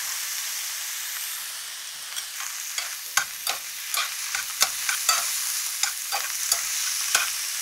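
Ingredients stir-frying in cooking oil and sesame oil in a single pot, a steady bright sizzle with scattered sharp scrapes and clicks of a utensil stirring through it, close and fairly quiet.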